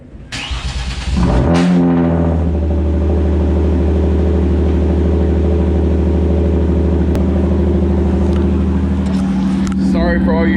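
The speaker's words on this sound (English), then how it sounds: "let's go ahead and get started with that cold start" A Hyundai Genesis Coupe cold-starts with a brief crank, then catches into a loud, steady high idle that rumbles on close by, with a short burst of talk just before the engine fires.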